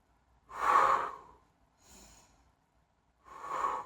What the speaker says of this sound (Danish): Jeg trækker vejret ind, pust ud, ind, og ud